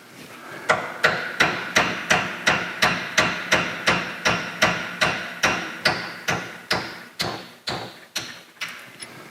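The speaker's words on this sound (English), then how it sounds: "I'm just tapping easy with this particular swing press." Steady series of about twenty metallic taps as a Welch freeze plug is driven into an NP 205 transfer case with a swing press, evenly spaced and loud, each ringing briefly.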